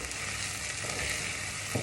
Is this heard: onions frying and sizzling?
yes